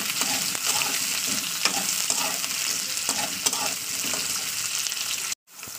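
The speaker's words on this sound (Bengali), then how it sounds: "তো আলুটাকে আমি তেলের উপরে একটু ভাজা ভাজা করে নেবো" Potato pieces fry in hot oil for a Bengali fish curry, giving a steady close sizzle with repeated stirring scrapes through the clip, then a brief sharp cutout near the end.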